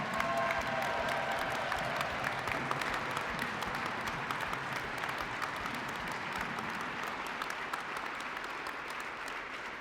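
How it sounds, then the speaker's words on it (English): A crowd applauds at an ice arena ribbon-cutting ceremony, giving steady, dense clapping that holds for about ten seconds at an even level and tapers only slightly. "let's give Jim a big round of applause."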